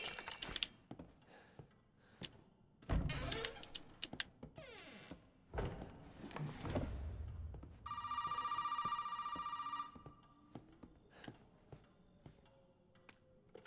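A telephone rings in the horror game Resident Evil 7, a steady electronic ring lasting about two seconds amid sharp game clicks, thuds and scattered effects, with no talk.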